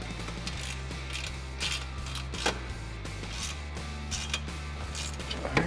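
Quiet mechanical clicks and ratcheting creaks come from bolts being tightened on a 2011-2014 Mustang GT's SR Performance axle-back exhaust, a soft, intermittent series of tool sounds without speech.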